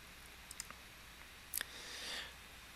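A computer mouse gives a few light, close clicks, including a quick double-click, followed by a soft swell of faint whooshing noise.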